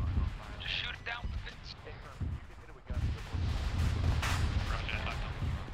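Heavy gunfire and booming shots in a military video game aimed at a transport helicopter, dense and continuous with loud bursts and rumbling, while voices talk over it.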